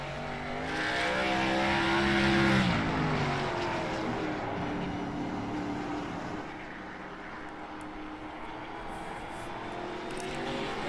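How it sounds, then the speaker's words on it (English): Race car engines at a short track race at Thompson, a loud roaring field that swells with a revving pass and rising pitch, then eases into a lower sustained drone as the cars pull away, with no voices. "I don't need to listen to the engine noises."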